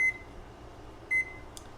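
Two short electronic beeps from a kitchen timer sound about a second apart in a quiet kitchen, each one clear and brief over a low background hum.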